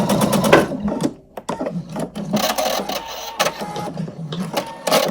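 A sewing machine stitches forward and back across a quilted denim placemat, giving close, loud bursts of rapid mechanical whirring. Short pauses break up the runs, and one pause near the middle is longer than the others.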